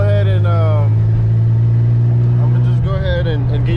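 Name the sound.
tuned Infiniti G35 with Tomei exhaust revving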